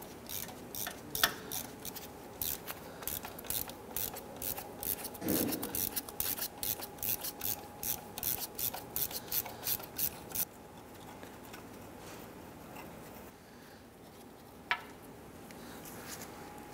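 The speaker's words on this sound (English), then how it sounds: "Using our 12 millimeter gear wrench, we're gonna go ahead, loosen and remove our lower" A 12 mm gear wrench ratchets rapidly as it loosens AC compressor bolts on a 2008-2013 Nissan Rogue, a close, quick clicking run that stops, followed by a few isolated metallic taps.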